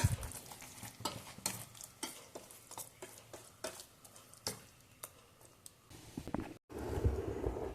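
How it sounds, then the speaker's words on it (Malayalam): Bread bajji ingredients being mixed together in a bowl, giving a run of repeated scraping and clinking stirring strokes, fairly close and moderate in level, with no talk. "എല്ലാം കൂടി മിക്സ് ചെയ്യുക"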